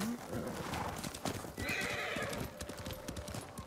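A horse in Ghost of Tsushima gallops with steady clip-clopping hooves and gives a whinny, heard over game ambience with a faint tone and soft speech in the background.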